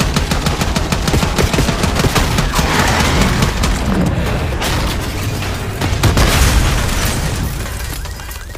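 Dense, loud gunfire fills a street-ambush mission in Call of Duty: Black Ops 6, with rapid automatic bursts, sharp pops and deep booms continuing without a break.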